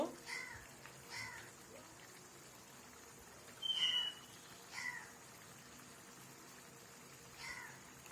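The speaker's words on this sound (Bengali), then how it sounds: "আমার রান্নাঘরের পাশে কাক বসে আছে," A crow perched beside a home kitchen caws faintly from a distance, giving about five short harsh calls spaced irregularly over a quiet background.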